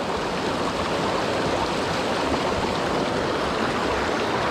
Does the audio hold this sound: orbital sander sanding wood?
no